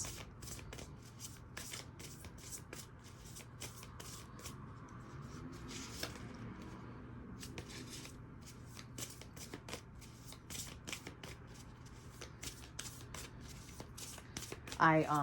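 Tarot cards are shuffled by hand in repeated crisp riffling bursts, close and fairly quiet, with a soft voice speaking over them.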